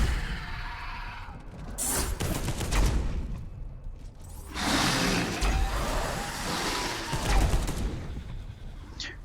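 Gunfire from the Space Hulk video game as troops shoot genestealers in a corridor: several dense bursts of rapid shots, separated by brief lulls and layered over a steady rumbling background.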